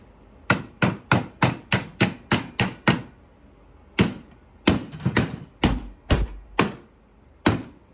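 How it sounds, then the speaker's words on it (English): A wooden mallet turned from firewood pounds bent metal in a quick run of about nine sharp, close blows, then after a pause a slower, less even series of strikes. "This is a mallet my neighbor turned out of some firewood I got in the yard out there."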